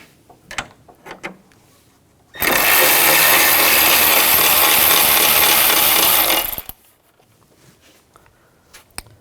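A power tool whirs loudly and steadily for about four seconds while a 10mm socket spins nuts off a 2006-2010 Hummer H3 3.7L, framed by quieter clicks and clinks of handling before and after.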